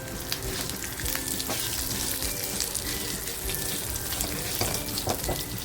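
White sesame, poppy seeds and cumin roast in a pan with a steady, close crackling sizzle and scattered small pops and scrapes, no talking.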